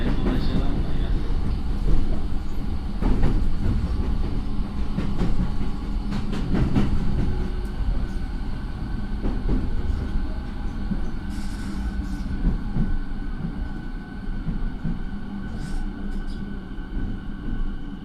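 JR 209 series electric train with Mitsubishi IGBT motor equipment, heard from inside the car while running: a continuous low rumble and rhythmic wheel clatter, with a steady motor hum and occasional faint squeals.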